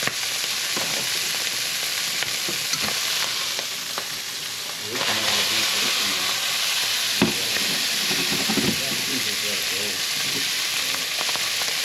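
Honey glazed sausages fry in a pan on a stove, giving a loud, continuous sizzle with occasional crackles and stirring scrapes.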